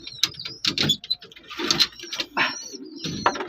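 Young pigeons shut in their cages during rain coo and flutter close by while feeding, with soft scratching and patter in between.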